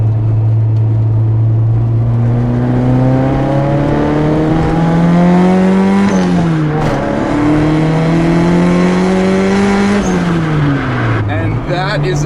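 A boosted 1988 Honda CRX with a B20b engine takes a corner, its engine loud and close, holding a steady drone that climbs and drops with throttle and gear changes throughout.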